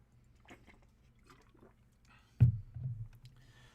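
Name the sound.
getting a drink of water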